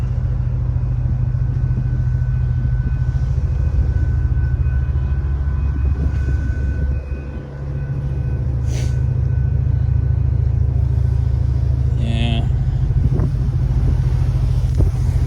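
Ferry engine on the Port Townsend to Keystone crossing, a loud, steady low rumble and hum throughout with wind buffeting the microphone and a few faint clanks.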